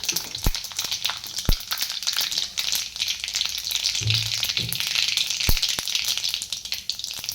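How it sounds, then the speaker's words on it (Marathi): Gravy frying in oil in a pan, a steady close bright sizzle with occasional soft clicks and pops from the spattering oil, no voices. "आपण बनवून घेतलेली ग्रेव्ही ग्रेव्ही छान अशी तेलामध्ये भाजलेली आहे"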